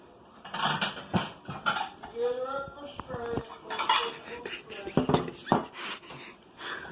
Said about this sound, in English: I'll get 2 plates out.